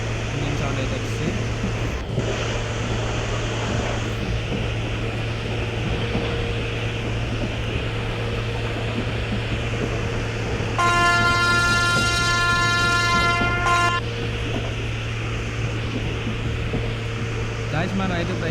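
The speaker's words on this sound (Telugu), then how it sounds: "చూడండి ఇంజిన్ సౌండ్ అయితే వచ్చి" Train engine in the Indian Train Simulator mobile game: a steady, loud low rumble throughout, with a sustained horn blast partway through.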